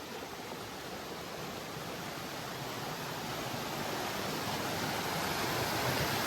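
Water rushing at Hanmatmal waterfall in Dharampur during the monsoon, a dense, unbroken roar of flowing water that stays steady and fairly loud from start to finish, with no voices.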